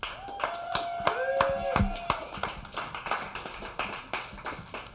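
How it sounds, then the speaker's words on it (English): Audience applauding at a comedy show, scattered hand claps under a speaking voice, sharp and sparse rather than a full ovation. "I want all you guys to give yourself a round of applause."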